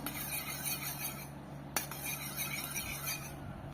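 Four eggs are beaten and mixed in a bowl with a utensil: a steady, fast rhythmic whisking and tapping runs throughout, with one sharp clink partway through.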